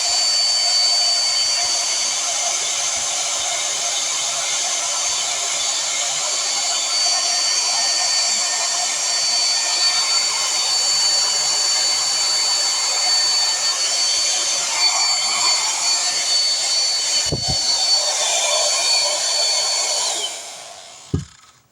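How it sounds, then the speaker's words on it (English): A large, powerful air blower runs over poured paint, producing a loud, steady high-pitched whooshing roar that holds for about twenty seconds before cutting off, with a brief knock and a click near the end. "I got this super duper big blower upper. It kind of goes too hard"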